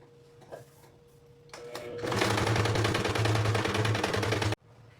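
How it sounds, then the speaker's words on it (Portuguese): A sewing machine stitches felt pieces for a dollhouse, starting with a few soft clicks, then running in one loud continuous whirring burst of about two and a half seconds before stopping abruptly. "eu vou costurar todas as minhas peças"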